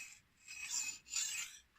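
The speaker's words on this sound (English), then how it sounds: "when I sharpen this knife" A cheap knife being sharpened on an inexpensive whetstone, with two slow raspy grinding strokes rising and falling in loudness, close and alone with no talking.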